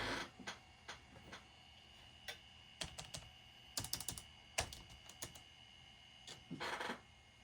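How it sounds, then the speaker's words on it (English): A Citizen W1D floppy drive inside a Compaq LTE Elite 4/75 laptop, with a worn drive belt, tries to read a disc, giving faint, scattered clicks and brief mechanical ticks in short irregular bursts. "Just trying to read the disc."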